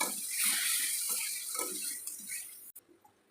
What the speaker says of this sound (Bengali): মশলাটা যাতে পুড়ে না যায় তার জন্য এই সময় অল্প একটু জল দিয়ে দেবো